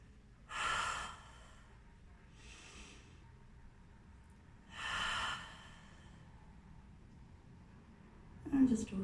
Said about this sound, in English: just close your eyes and breathe here